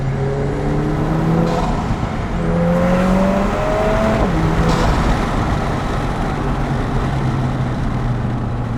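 A Lotus Emira Turbo on a canyon road, its engine loud and close, climbing through rising pitch sweeps as it accelerates and shifts, with a brief drop near the middle before pulling hard again.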